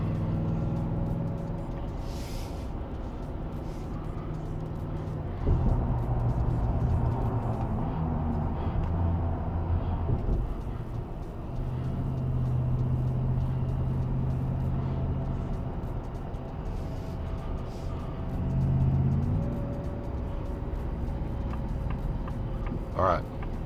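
A 2024 Shelby F150 Super Snake pickup accelerates hard toward highway merging speed, its engine droning loud and steady with rising surges as gears are held, continuous throughout with road noise underneath.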